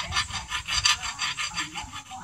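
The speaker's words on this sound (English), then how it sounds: "here is the shaft, and I'm just carefully filing around it" Bastard file rasping burrs off a metal shaft during a Chevy Blazer neutral safety switch repair, a close series of rhythmic back-and-forth strokes, about a dozen quick scraping passes.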